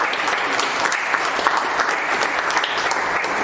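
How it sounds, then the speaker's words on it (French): An audience at a French talk on menhir statues claps steadily throughout, a dense, even applause close by with no voices over it. "on va applaudir Jean-Paul quand même"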